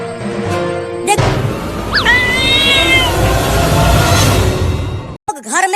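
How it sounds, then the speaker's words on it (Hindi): A cat meows loudly and drawn-out, a rising, wavering cry lasting about a second, over a busy background with a sharp crash before and another voice-like wail at the end. "देखो मम्मी, हम बिल्ली को पकड़ कर ले आए।"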